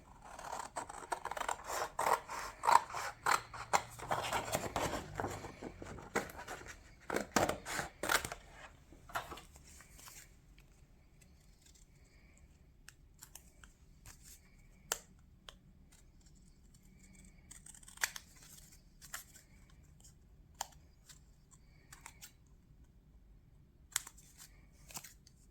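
Scissors snip through a paper bookmark for a musical theatre design, giving close, crisp crunching cuts in a dense run over the first several seconds, then sparse isolated snips and light paper handling through the rest.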